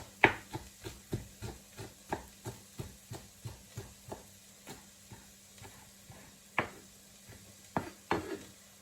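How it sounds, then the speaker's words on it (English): Knife finely chopping kale leaves on a board, a rapid regular series of crisp taps that slows and thins out toward the end, close and distinct with no talk over it. "I take the stalks out, they're quite woody, out of the kale, and then finely chop the leaves"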